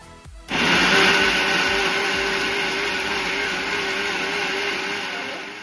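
A kitchen mixer grinder blends roasted coconut masala with coriander leaves into a fine paste, starting abruptly with a loud, steady whirring motor roar that holds for several seconds, alone without talk.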